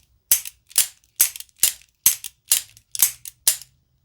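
Revolver shots from cowboy action shooting, fired alternately from two pistols in a double draw: eight sharp, loud reports in a steady, quick rhythm, each with a short ringing tail, and no talking.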